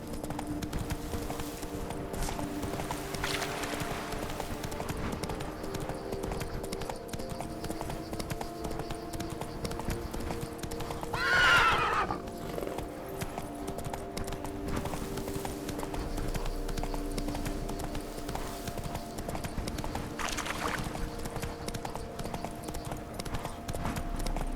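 Hoofbeats of the horse Roach carry on steadily through a countryside scene in The Witcher 3, a rhythmic clip-clop at moderate loudness over ambient game background.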